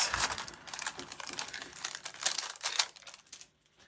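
Crinkly paper booster packs of Magic: The Gathering Secret Lair cards being torn open and handled, giving a close run of sharp rustling and crackling bursts that fade out near the end.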